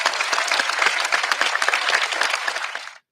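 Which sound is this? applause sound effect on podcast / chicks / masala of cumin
applause sound effect on podcast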